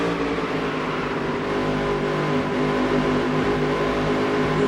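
A race car engine in the Dirt to Daytona video game drones steadily at high revs through the whole stretch, holding a loud harmonic roar with little change in pitch.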